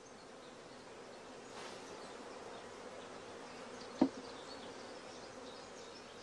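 Honey bees hum around an opened hive after the super and upper brood chamber are lifted off, a soft steady buzzing drone with one brief louder pass close by.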